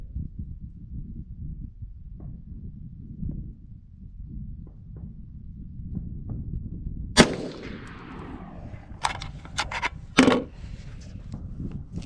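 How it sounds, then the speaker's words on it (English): Windham Weaponry A2 government rifle with 1:9 twist barrel test fired at a range, a few sharp loud gunshots with cracking reports and echo over quiet low rumble and handling noise. "let's go see what our very first 3 shots look like"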